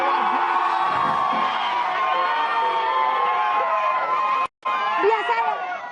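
A large television studio audience of about 500 cheers and shouts continuously, loud and echoing, with whoops throughout and a brief break near the end.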